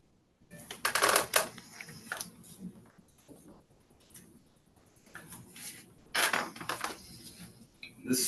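A knife cuts a cucumber in half on a board, giving sharp clicking knocks in two bursts with quieter handling noise between them.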